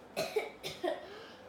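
A storyteller voicing the wolf in Little Red Riding Hood gives two short, close, quiet coughs in quick succession, a voice imitating a sick wolf's cough.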